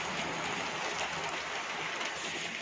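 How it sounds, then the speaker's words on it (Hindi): Heavy rain falls outside in Himachal Pradesh, an even, dense hiss that carries on without a break, moderately quiet and with no voices. "भयंकर बारिश और हम पूरी तरह से भीग चुके हैं"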